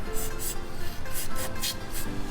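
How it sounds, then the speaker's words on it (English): Airflow sensor cleaner sprayed inside an engine part gives a series of short, close hissing bursts in a loose rhythm over a low background hum. "I'm just gonna spray some on the interior here."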